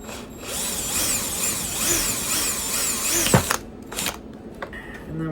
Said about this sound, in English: I'm just going to take a piece of plastic, drill a hole through it